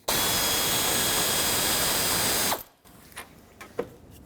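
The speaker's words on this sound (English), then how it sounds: "I'm going to take out this 8mm bolt so I can kind of maneuver the shroud out of the way" A ratchet loosens an 8mm bolt holding the fan shroud on a 2008-2010 Ford F-250 with the 6.4L diesel during a water pump job. A loud, steady whirring runs about two and a half seconds, then stops, leaving faint clicks and handling noises.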